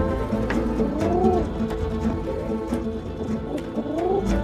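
Pigeons coo close by in soft, repeated rolling calls, several overlapping phrases in a steady rhythm with faint background noise and no speech.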